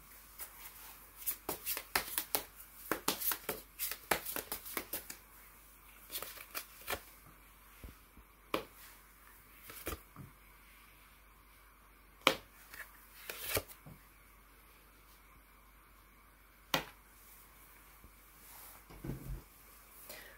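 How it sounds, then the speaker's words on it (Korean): Tarot cards shuffled and drawn by hand, a quick run of crisp riffling flutters and slaps early on, then sparser single snaps and flicks of cards, close and quiet, with a few soft words spoken. "먼저 수호신의 2024년 2월 메시지 카드부터 뽑아보도록 하겠습니다"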